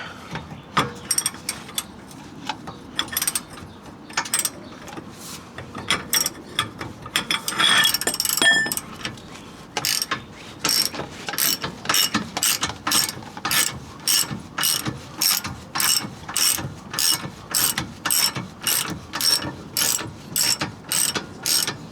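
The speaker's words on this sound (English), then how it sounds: "I got my 18mm with the breaker bar." An 18mm breaker bar working a bolt on a BMW E46 during a coilover install, with a long, even train of sharp metallic ratcheting clicks up close after a few scattered clanks, and no talking.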